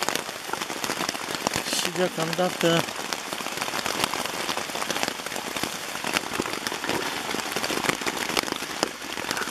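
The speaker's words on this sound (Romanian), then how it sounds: "jumătate de oră de ploaie" Rain patters steadily on a pyramid tent, a dense continuous drumming on the fabric heard from inside, with a brief soft voice speaking over it and a short tonal sound early on.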